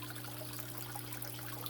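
Water trickles and splashes softly and steadily in an aquarium waterfall tank in a fish room, faint and continuous over a low electrical hum.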